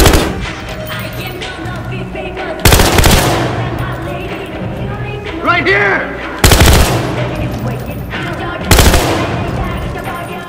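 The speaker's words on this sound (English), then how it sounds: "I hear gunshots." Gunfire in Battlefield Hardline: several loud, close bursts of shots and rapid automatic fire hitting at intervals over a busy background, with someone shouting briefly between them.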